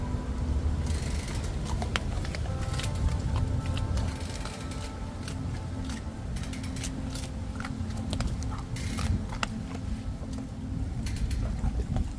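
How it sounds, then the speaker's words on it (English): Steady wind rushes and buffets against the microphone for the whole stretch, with a low rumble and a few scattered clicks and knocks. "Windy day today."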